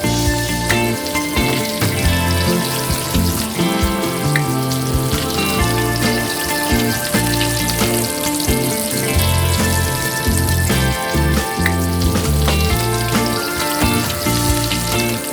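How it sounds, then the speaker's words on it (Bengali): Chicken leg pieces deep-fry in oil with a dense, loud, continuous bubbling crackle that stays steady throughout, close to the pan with no voices. "আপনাদেরকে আমি দেখিয়ে দিচ্ছি দুটো চিকেন ফ্রাই করে, বাকিগুলো সেম প্রসেসেই ফ্রাই করব।"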